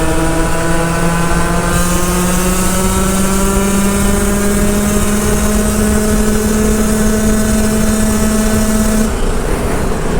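A 125cc motorcycle engine with a slightly sticky power valve held at top speed in a tunnel, a loud steady high-revving drone with slowly rising pitch that cuts off near the end.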